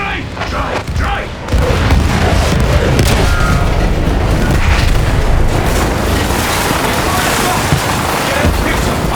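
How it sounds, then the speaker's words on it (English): Battlefield 1 story-mode artillery barrage: loud, dense booms and blasts roll almost without pause, with voices underneath. "Artillery!"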